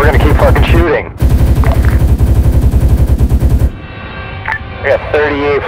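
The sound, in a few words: gunfire in video game ARMA 3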